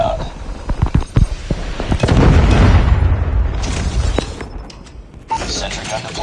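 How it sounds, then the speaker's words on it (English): Predator missile strike in a first-person shooter video game, a deep booming blast with crackling debris swelling in the middle of the clip amid other game sounds and short pops. "Predator missile inbound."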